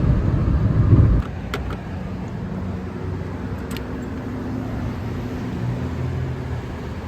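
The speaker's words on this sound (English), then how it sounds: "Passing cars on my right. Soon to be passing cars on my left." Cars pass on the road outside a Daihatsu Mira Gino as it drives with the AC running, a steady low road and engine rumble with a brief louder swell at the start.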